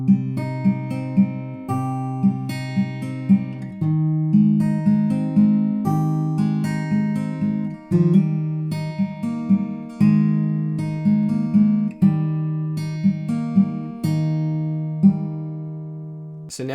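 Fingerpicked acoustic guitar plays the second line of a song, steady arpeggiated patterns with the chord shape changing every two seconds, clear and close with no talking.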